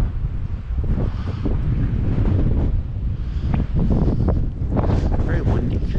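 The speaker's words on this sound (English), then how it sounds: "Very windy." Strong, gusting wind buffets the microphone throughout in loud, rumbling bursts, with no clear speech.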